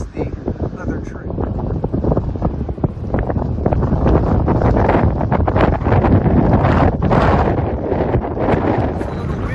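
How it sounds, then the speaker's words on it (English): Strong wind on a coastal trail near Port Orford, Oregon, buffeting the microphone in loud, continuous gusts with rustling bursts throughout. "It's a little windy up here."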